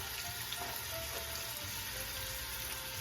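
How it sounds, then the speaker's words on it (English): Continuous sizzling and crackling of beef browning in a hot pan for Bolognese, a steady bright hiss close up with no voices. "You wanna hear that good sizzle. We're gonna brown this"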